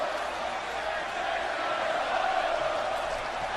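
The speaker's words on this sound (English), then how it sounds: "You hear this crowd. They're chanting for the Phenomenal One." Arena crowd in the WWE 2K18 wrestling video game during an NXT pay-per-view match, a dense sustained roar of many voices that swells slightly midway with no pause.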